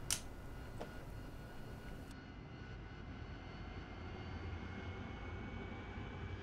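A simulated AV-8B Harrier jet in DCS World spools up for takeoff. A steady, loud, broadband engine roar holds throughout, with a sharp click at the start and no talk.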